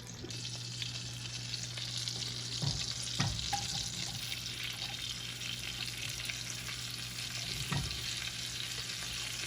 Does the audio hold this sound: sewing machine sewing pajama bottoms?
no